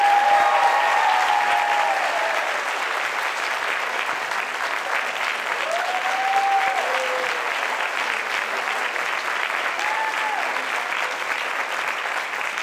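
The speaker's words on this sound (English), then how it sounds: "How about a big round of applause for all of them?" A conference audience at an awards event applauds mentors and organizers, a steady, dense wash of clapping filling the room, with faint voices or whoops briefly rising above it.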